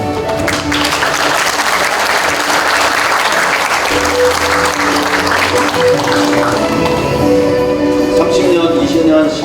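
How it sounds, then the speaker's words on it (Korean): Sustained applause fills a university's 99th anniversary ceremony, steady dense clapping from a large audience with background music tones underneath, continuing loudly throughout. "30년, 20년, 10년 근속을 수상하신 모든 분들께 다시 한번 축하의 박수를 부탁드리겠습니다."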